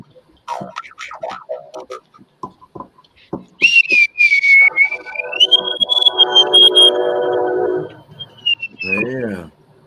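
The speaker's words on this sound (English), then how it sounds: "With a train whistle too." A train whistle sounds in one long, steady, high-pitched blast that wavers slightly, following a stretch of speech and clicking. Heavy broadband rumble runs underneath, and a voice cuts in at the end.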